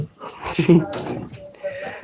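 A playful dog growls and grumbles in short bursts up close, mixed with whimpery sounds during rough play in an evening walk setting.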